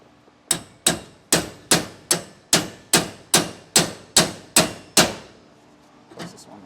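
Hammer blows drive a bolt out of a steel suspension hanger on a 2012 Forest River Wildwood travel trailer during a Dexter E-Z Flex install: eleven loud, evenly spaced metallic strikes, close up, then a faint clatter.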